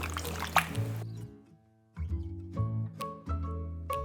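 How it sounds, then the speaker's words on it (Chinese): Water splashes and trickles into a bowl of pork ribs for soaking, in short bursts of pouring with a pause between, close and fairly quiet. "然后放水，给它浸泡。"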